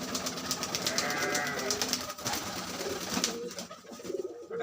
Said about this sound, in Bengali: এটা অনেক পুরনো পায়রা আছে, বহুত পুরনো পায়রা।